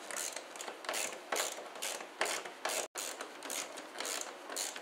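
Ratchet loosening the airbox screws on a Fiat/Ford 1.2 litre engine, a close series of rapid clicking bursts in a steady back-and-forth rhythm with a short gap partway through.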